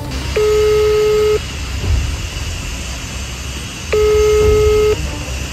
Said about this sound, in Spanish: Voy a llamar otra vez a ver.